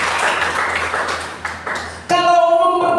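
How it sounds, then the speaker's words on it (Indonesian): Congregation at a Sunday church service clapping together, a dense wash of applause lasting about two seconds before it gives way to singing or music. "Tepuk tangan dulu buat Tuhan kita yang baik."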